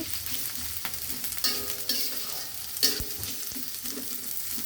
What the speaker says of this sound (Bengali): এবার কড়াই আবার একটু সয়াবিন তেল দিয়ে দিব তারপর দিব পেঁয়াজ ও কাঁচামরিচ কুচি